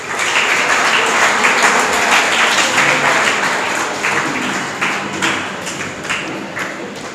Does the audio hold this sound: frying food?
no